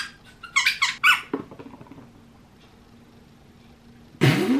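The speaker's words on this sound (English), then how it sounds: "It's the Kong brand, but it's a little pig squeaky toy." A Kong brand little pig squeaky toy squeaks in a quick burst of several sharp, high squeals as a puppy plays with it in its bed, followed by a pause and one more loud squeak close by.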